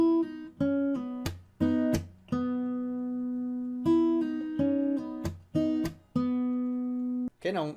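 Measure 131 of a song played fingerstyle on acoustic guitar, mixing open-string notes that ring out with sharp percussive slaps on the strings in a syncopated pattern, close and clear, with no talking.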